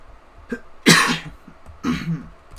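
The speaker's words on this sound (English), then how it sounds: "Sorry about the coughing still" A person coughs during a cave-climbing game stream, with two loud, harsh bursts close to the mic, a brief rough hack before them and quieter breathing in between.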